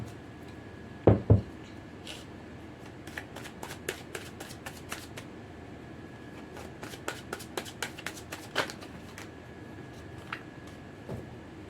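Tarot cards are shuffled and drawn by hand in a quiet room: two louder knocks come first, then a long run of soft, rapid riffling flicks with no talking.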